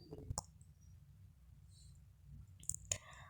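Sharp computer mouse clicks, one near the start and a close pair near the end, crisp and close over a quiet low background hum.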